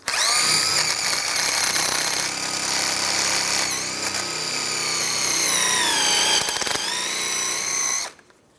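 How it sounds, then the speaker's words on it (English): A wire brush, likely power-driven, scrubs rust and corrosion from the front wheel bearing hub area of a 2007-2013 Mini Cooper, a loud, continuous whirring grind with slight pitch shifts, running nonstop for about eight seconds before cutting off. "I'm just going to take a wire brush, just clean up this area a little bit, get rid of some of that rust and corrosion"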